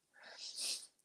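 A single short sneeze, soft and breathy with a hissing burst at the end, fairly close and on its own.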